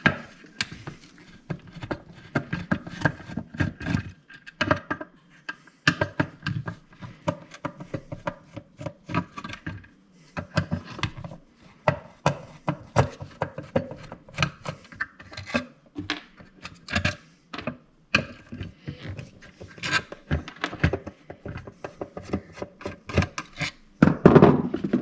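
A Phillips screwdriver and needle-nose pliers work loose the screws holding an engine coil, giving close, uneven bursts of scraping, rasping and metallic tapping separated by short gaps.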